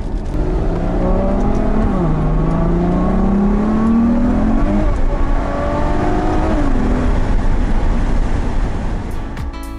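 A Ferrari GTC4 Lusso engine accelerates hard in traffic on a mountain road, its loud rising tone climbing through gears with a brief dip at a shift, close and sustained throughout.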